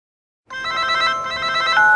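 A telephone rings loudly and steadily inside a radio commercial on Liberty Rock Radio in GTA IV, a bright warbling electronic bell sounding alone without voices.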